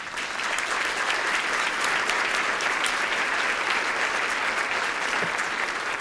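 An audience at a community legacy event bursts into dense, sustained applause, many hands clapping evenly from start to finish with no pause.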